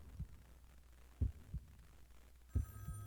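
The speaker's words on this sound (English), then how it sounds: "That's a heartbeat," A heartbeat in the horror video game Sally Face during a hospital scene: low, muffled thumps in slow pairs under a faint steady hum, with no voices.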